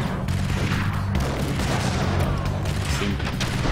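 A grenade explosion in the Max Payne video game, a heavy, booming blast with rolling low rumble that stays dense and loud throughout, mixed with scattered gunfire-like cracks.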